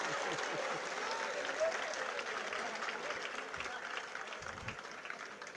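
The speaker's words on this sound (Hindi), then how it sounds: "बजाओ तालियों पर।" Steady applause from a large audience at a Jain monk's sermon in Indore, continuous dense clapping throughout with faint murmurs underneath.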